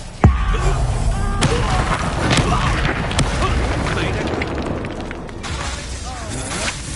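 A Confringo fire-blast spell explodes in Hogwarts Legacy with a sharp boom near the start, followed by a dense, crackling rumble of combat impacts and thuds that rolls on steadily throughout.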